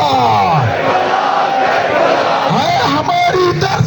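Crowd at a Muharram gathering in Lahore on Ashura answering a leader's slogan, a massed roar of many voices shouting together, loud and reverberant, swelling and trailing off across a few seconds.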